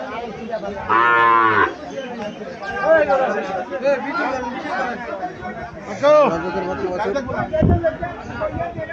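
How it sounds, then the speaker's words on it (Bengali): A Sahiwal heifer calf moos loudly once, then again later, amid people chattering nearby and general outdoor bustle at a cattle market. "সাইওয়াল জাতের বকনা বাছুর"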